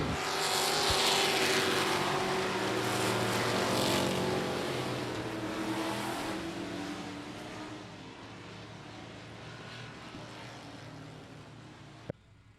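Texas dirt trucks roaring around the oval at I-37 Speedway during a 20-lap main event, a loud sustained wall of engine noise from the passing pack that slowly fades as the trucks move away.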